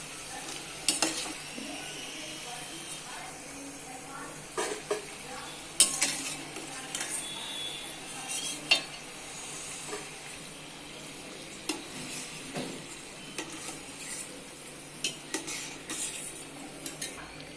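Atta biscuits fry in hot oil with a soft, steady sizzle, punctuated by repeated clinks and scrapes of a utensil stirring against the pan, at fairly low volume with no talking.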